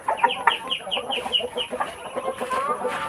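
Farm chickens at a provincial backyard clucking close by, a quick run of rhythmic clucks and squawks from several birds overlapping, fairly loud with no talk.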